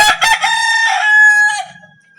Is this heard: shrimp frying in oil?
no